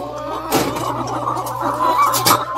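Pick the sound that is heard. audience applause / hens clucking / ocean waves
hens clucking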